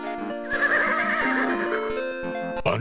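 A horse in the 1992 DOS adventure game King's Quest VI lets out a loud, drawn-out whinny lasting a couple of seconds, with a brief sharp tail at the end.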